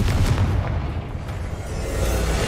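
A Confringo blasting spell explodes in a magic video game, a heavy, rumbling boom that rolls on for a couple of seconds with a dense low roar and no voices.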